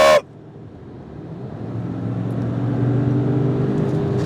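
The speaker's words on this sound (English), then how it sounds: "Do y'all hear that supercharger, bro?" A supercharged car pulls hard in first gear after a short burst at the start, its engine note building steadily louder with a rising whine over several seconds, heard close from inside.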